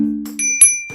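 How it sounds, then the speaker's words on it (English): Bell alert sound effect, a bright bicycle-style bell ding with a short ringing tone, clean and close with brief metallic strikes. "Alerts."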